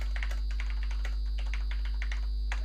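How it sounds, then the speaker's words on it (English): Rapid typing on a computer keyboard during an online tabletop role-playing session, a run of crisp, close key clicks over a steady electrical hum. "He's typing something."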